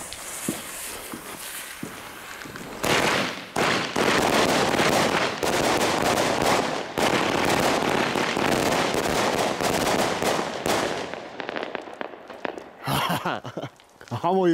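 A Witte Thunderstorm 36-shot firework battery fires a dense, loud, rapid string of cracking bursts that runs for several seconds before trailing off into scattered pops and quiet.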